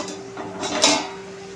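A metal lid is set on a cooking pot of masala guar beans on low flame, making a single short, fairly quiet clink against a faint background hum.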